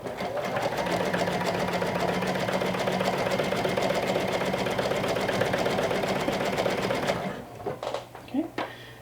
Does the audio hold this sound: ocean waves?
no